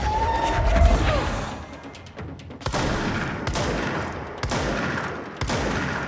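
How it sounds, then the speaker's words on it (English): Shotgun blasts in the game Control, several heavy shots a second or so apart, layered over a constant noisy rumble of combat, with no talking. "Shotguns are not supposed to be so useless at long range."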